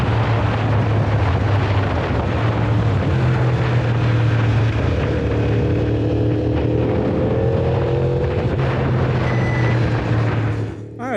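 Raw onboard audio from a GoPro 13 on a moving motorcycle: a loud, steady engine drone with heavy wind buffeting across the microphone, continuous for the whole stretch and dipping briefly only at the very end.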